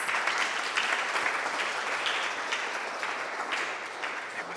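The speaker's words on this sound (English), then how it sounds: "we have a round of applause for Servando" Sustained applause from a workshop audience on stylized creature design, welcoming a presenter to the front; dense, steady clapping from many hands that holds at an even level throughout.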